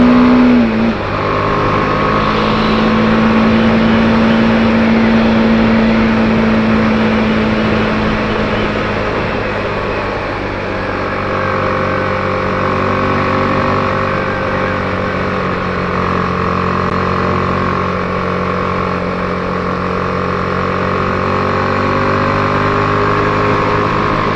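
A BMW G310R motorcycle engine hums steadily at moderate revs while riding through a tight corner, the drone shifting pitch slightly as the throttle eases and rolls back on, with continuous wind and road noise throughout.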